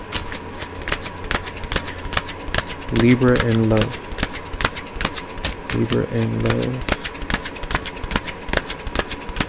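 Tarot cards being shuffled in quick, crisp rattling bursts close by, continuing steadily while a person speaks briefly twice over them.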